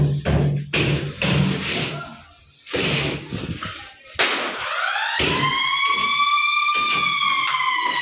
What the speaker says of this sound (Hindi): कंपनी का अलार्म बज गया है